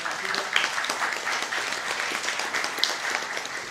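A stage-play crowd bursts into steady, dense applause lasting a few seconds, a bright sustained wash of many hands with a few sharper claps and faint voices mixed in.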